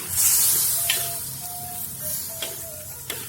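Coconut milk gets stirred into cooking goat meat in a pan, giving a soft sizzle and steady simmering hiss broken by a few light scraping strokes of the spoon.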